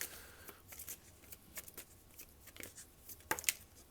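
Three tarot cards drawn from a deck, brisk papery shuffling and flicking with a few sharper slaps near the end, close and fairly quiet.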